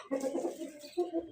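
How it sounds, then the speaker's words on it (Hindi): Backyard chickens in a coop give short, soft clucks and coos in a few quick bursts close at hand. "दिखाता हूँ खोल के अपनी मुर्गियाँ"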